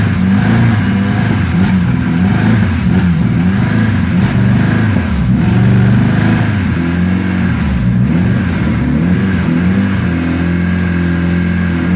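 A 1999 Dodge Stratus 2.4 L engine runs steadily at close range, a low continuous mechanical hum with slight rises and dips in tone throughout.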